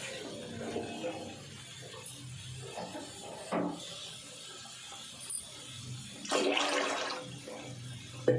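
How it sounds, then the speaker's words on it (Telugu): About two litres of water pours into a pressure cooker for mutton pulao, arriving in a couple of short, gushing splashes amid faint kitchen clatter, with no talking. "ఇలా ఒక 2 లీటర్స్ వరకు వాటర్ అనేది యాడ్ చేసుకున్నామండి."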